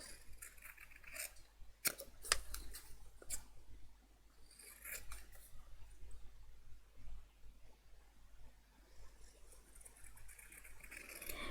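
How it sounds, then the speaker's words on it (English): Big long-bladed scissors cut through paper in a crafting session, a series of quiet, close snips and slicing strokes at an irregular pace, with no talking. "So I'm just going to use my big scissors."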